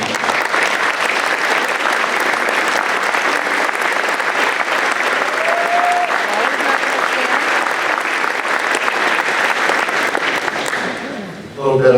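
An awards night audience applauds departing school staff as they stand to be recognized, a loud, continuous wall of clapping from a full room that drops off near the end as a voice begins speaking.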